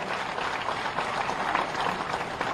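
Steady, dense applause from a large audience at a teacher-honouring ceremony, continuous and moderately distant throughout.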